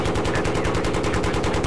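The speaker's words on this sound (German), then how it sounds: "Da BTR-Schüsse, da." Rapid automatic fire from a BTR armoured vehicle in a military video game, a fast, even stream of loud shots at roughly a dozen per second, sustained throughout.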